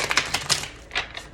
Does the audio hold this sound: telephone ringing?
no